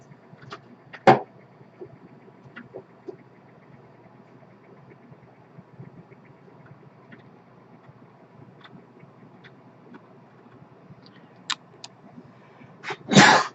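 A single sharp sneeze bursts out near the start, followed by a faint tick and another brief sharp burst near the end, all over a quiet room hum.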